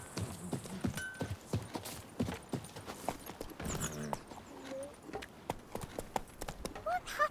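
Hooves of the horse Roach clip-clop in a quick, rhythmic trot in Witcher 3, close and clear, with voices speaking at moments over the steps.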